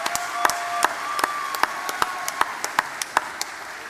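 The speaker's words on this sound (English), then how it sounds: "everybody, a round of applause." Sparse, close-up clapping from a small group at a Young Farmer of the Year grand final event, with individual sharp claps standing out against a light background of distant clapping.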